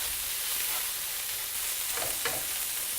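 Spices and a little saffron frying in a pan while being stirred, a quiet steady sizzle with a few soft scraping strokes near the end.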